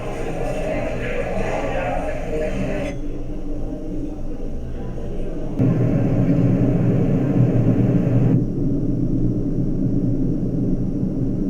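Simulated airplane cabin noise plays as a steady, loud broadband roar and rumble throughout, shifting in tone partway through, used as background for a call quality test of Soundcore Space Q45 headphones.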